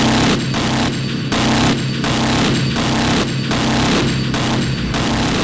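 A 20mm Vulcan rotary cannon on an F-16 in the DCS flight simulator roars in repeated long bursts, loud and harsh, separated by brief pauses, with constant engine noise underneath.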